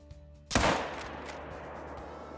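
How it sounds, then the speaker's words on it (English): A single loud rifle shot rings out while hunting in the video game theHunter: Call of the Wild, a sharp close blast followed by a long rolling echo that fades slowly. "That shot looked good."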